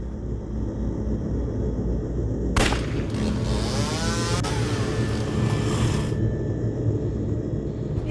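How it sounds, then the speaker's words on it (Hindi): A motorbike speeds past with a backfiring silencer, a sudden loud crack followed by a roaring, whooshing engine rush that swells and cuts off, over a low constant rumble. "यहाँ से एक बाइक स्पीड से गई, लगता है साइलेंसर फट गया होगा उसका"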